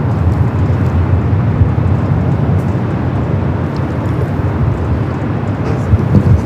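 A jet airliner taxiing and turning at LAX airport, bound for JFK, gives a broad, steady low rumble of engine noise that stays loud and continuous throughout, with faint voices underneath.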